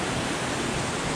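Zealand Falls, the upper portion of a mountain waterfall, roars as a loud, steady, broadband rush of falling water close by, unbroken across the whole moment.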